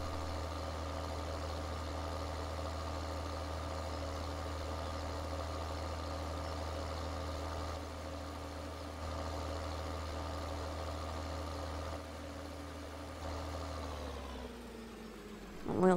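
A combine harvester engine idles steadily in Farming Simulator 2013, a constant low droning rumble that holds unchanged for a long stretch before dipping near the end.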